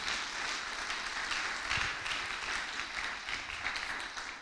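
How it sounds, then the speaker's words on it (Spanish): A church congregation claps together in a dense, steady patter of applause that holds for several seconds, fairly distant and moderate in level. "Dale un aplauso fuerte al Señor."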